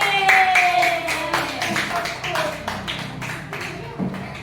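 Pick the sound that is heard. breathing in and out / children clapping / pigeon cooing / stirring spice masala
children clapping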